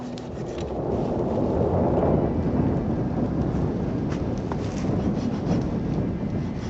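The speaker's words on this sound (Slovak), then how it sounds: "Začal sa dvíhať vietor." Wind rising in icy mountains, a steady loud roar buffeting the microphone with low rumbling gusts that swell and ease throughout.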